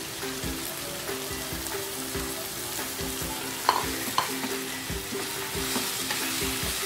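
Minced meat for a keema and potato curry sizzles and fries in oil while being stirred, giving a constant crackling hiss broken by soft scraping strokes and a couple of sharper clinks.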